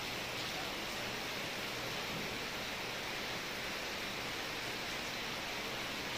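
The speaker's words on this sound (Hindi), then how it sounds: "देखिए दोस्तों, बहुत तेज से बारिश हो रही है।" Heavy rain pours down in a steady, dense hiss that never lets up, loud and close with no other sounds standing out.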